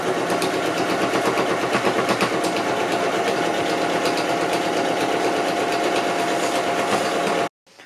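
A sewing machine runs steadily, stitching bias binding along a small fold on a fabric coin purse, a continuous close mechanical whir with rapid rhythmic needle chatter that cuts off abruptly near the end.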